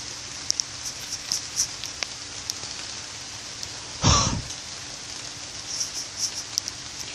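Rain pelts steadily on a rainy Sunday, a continuous hiss of drops with scattered ticks and a brief throat-clearing or cough partway through.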